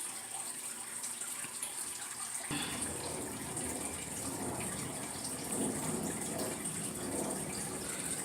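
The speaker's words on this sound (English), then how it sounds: "The noise you hear in the background is my aquarium." A home goldfish aquarium's water runs with a steady, continuous gushing rush that grows fuller after a couple of seconds and fills the background.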